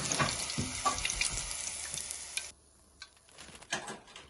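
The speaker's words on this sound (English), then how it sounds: "So let's fry chili. These are diced chili." Diced chili sizzles loudly in hot oil in a pan, a dense crackling hiss that drops off sharply partway through, leaving only faint scattered pops.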